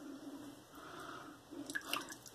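Hot bloom water poured off a triple-milled shaving soap puck for pre-shave, heard as faint wet trickles and a few light drips, ending in a brief cluster of splashy taps.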